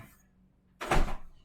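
A single dull, muffled thud of a packed home refrigerator door swinging shut, close and brief, after near silence.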